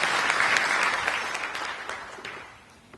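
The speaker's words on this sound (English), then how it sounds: "Please give him a round of applause." At a health care summit, a keynote speaker is welcomed with audience applause: a full, dense round of clapping that gradually thins and fades out over three seconds.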